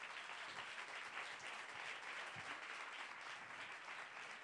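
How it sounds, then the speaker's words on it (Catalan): Steady, dense audience applause fills a concert backstage show in Catalonia, a continuous wash of many hands clapping with no break or talk over it. "Un fort aplaudiment per ells!"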